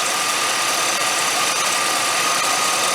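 A 1989 GM throttle-body-injected engine idles during an ignition timing check, giving a loud, steady, even drone with no voices.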